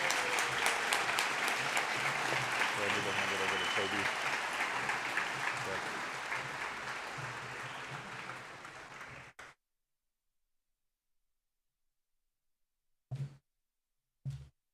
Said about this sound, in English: Please give one final round of applause for all of our award recipients.